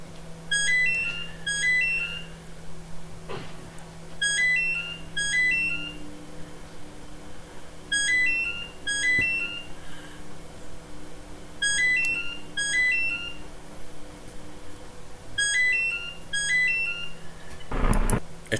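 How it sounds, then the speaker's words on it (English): A telephone ringing in a played-back recording, electronic ring bursts repeating in regular groups with pauses between, fairly loud over a low steady hum. "You're lucky if a phone will ring for that long these days."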